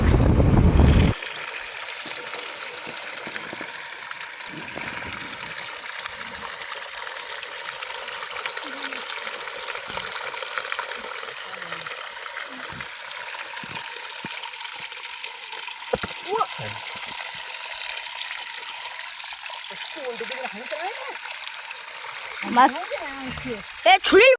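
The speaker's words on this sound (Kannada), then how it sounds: "ನೋಡಿ ಎಷ್ಟು ಚೆನ್ನಾಗಿ ನೀರು ಬೀಳ್ತಾ ಇದೆ" Water falls and flows continuously at an outdoor spot where clothes are washed, a steady trickling rush throughout, with a few splashes and faint voices near the end.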